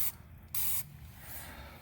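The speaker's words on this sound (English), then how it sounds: "I want to spray this area" Rust inhibitor sprayed from an aerosol can onto the rear shock area of a Honda Pilot, in two short, sharp, close hissing bursts followed by a fainter trailing hiss.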